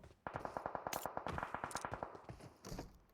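Rapid automatic gunfire from a hillside in the battle royale game PUBG, a fast burst of sharp shots and a second short burst, fairly faint.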